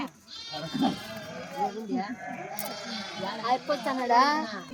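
Sheep bleat repeatedly, wavering cries overlapping with people talking nearby.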